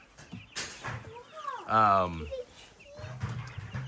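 A chicken's harmonic squawk rises out of soft background chatter, with faint clucks and noises around it.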